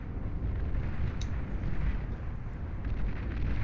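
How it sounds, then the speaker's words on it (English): Destroyers shelling wind turbines, metal extractors and bot labs in a Beyond All Reason 8v8 deathmatch, a dense, continuous roar of distant artillery thuds and explosions with a few sharper cracks, no speech. "Enjoy these destroyers, blasting away at the wind turbines, advanced metal extractors, bot labs, all the rest of it."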